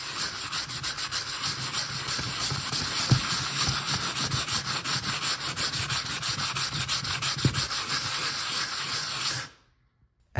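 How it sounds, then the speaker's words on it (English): Steady, rough scraping of sandpaper rubbing over dried spackle on a drywall patch in continuous circular strokes, close and even, stopping abruptly near the end. "I'll take the same sandpaper here, and I will just start sanding the whole thing"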